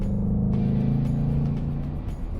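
A 2018 Ford Mustang GT Performance Package V8 rumbles steadily and loudly up close, its deep low-pitched engine note holding for a couple of seconds with no talk over it.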